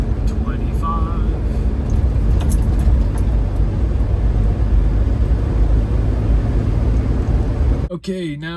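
A first-generation Mitsubishi Montero fitted with new Bilstein shocks drives along steadily, its engine and road rumble a constant loud drone that cuts off near the end; a voice briefly talks over it.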